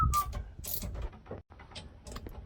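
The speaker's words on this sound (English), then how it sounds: "we will put the cover back on and bolt it back down" A generator's raw water filter cover on a Lagoon 450 catamaran is bolted back down at close range: quick metallic ratcheting and clicks come in short bursts, with a brief pause partway through.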